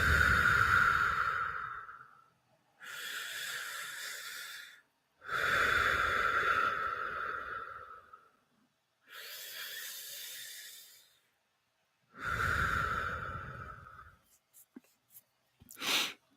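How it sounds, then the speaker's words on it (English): Slow deep breaths taken during a guided relaxation exercise, long airy inhale and exhale cycles close to the microphone, each separated by short silences, with a brief tap near the end. "let's close our eyes and take 3 deep"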